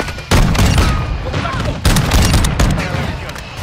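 Rapid bursts of gunfire in the Call of Duty: Modern Warfare II video game, loud and repeated in several clusters with short gaps, while a player talks at times.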